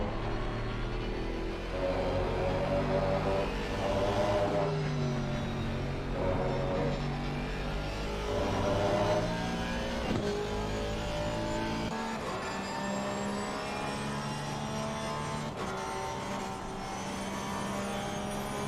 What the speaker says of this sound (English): Definitely the sound of an Aston.